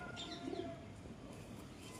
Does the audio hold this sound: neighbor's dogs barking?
no